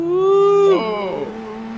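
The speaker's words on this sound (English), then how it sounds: "You can hear the wheel spin as these cars try to get on, because there's no traction control" Race car with no traction control spinning its wheels as it accelerates, a loud engine note rising steadily then dropping sharply with a whine, up close and alone.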